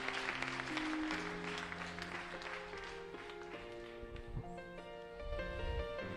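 Church congregation applauding for the Holy Spirit, a sustained wash of clapping under sustained organ-like music tones, moderately distant.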